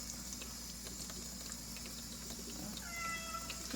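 Near the end, a cat gives a short, high meow over a constant low hum of running water or machinery.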